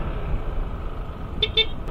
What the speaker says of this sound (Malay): Horn pun bunyi comel-comel macam tu